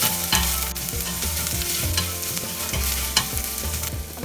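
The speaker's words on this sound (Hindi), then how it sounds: "प्याज का हल्का सा कलर चेंज हो जाए तब तक फ्राई करना है।" Chopped onions and green onion bulbs fry in a pan for vegetable soup, a continuous close sizzle broken by repeated scraping stirs of a spoon, with no voices.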